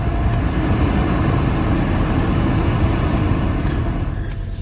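A 2008 Volkswagen Passat R32 V6 with AWD and 201,000 miles cranks and settles into a loud, low, steady rumble close by, with no talk over it.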